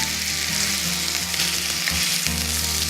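Ruby Red Devon fillet steak sizzles steadily in a pan over medium-high heat, a loud, continuous frying hiss with a low hum underneath that briefly dips near the end before resuming.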